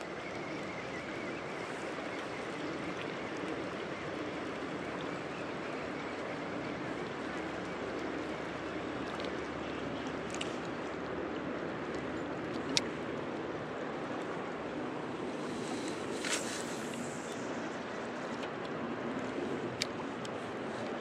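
Fast-flowing river water on a steelhead fishing outing, a steady broadband rush heard throughout at moderate distance, with a few faint clicks and taps.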